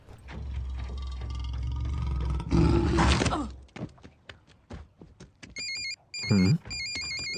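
A phone ringtone chirps in short repeated bursts near the end, following engine rumble and a few thumps earlier.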